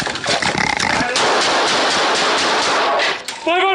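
Rapid automatic gunshots in a video game, a dense loud burst of fire running almost continuously.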